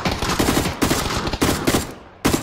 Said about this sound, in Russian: сейчас даже стреляют тут со всех сторон